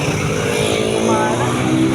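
A jeepney rumbles past on a busy street in Caloocan, its loud engine filling the scene at close range, with people talking nearby.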